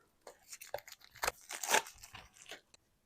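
An old journal package, stuck down for a long time, is pried and torn open, giving a quick series of close crunching, crinkling tears in irregular bursts.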